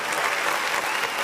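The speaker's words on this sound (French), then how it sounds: "on applaudit pour les amis de Brocro" Studio audience on a French-language Ivorian TV show applauding, a brief burst of thick, even clapping heard alone at close range.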